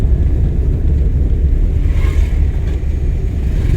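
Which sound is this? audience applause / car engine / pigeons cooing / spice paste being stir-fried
car engine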